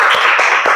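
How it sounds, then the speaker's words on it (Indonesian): Children in a fifth-grade classroom clapping hands together, a quick run of loud, close claps in a brief rhythmic burst. "Ya, tepuk tangan."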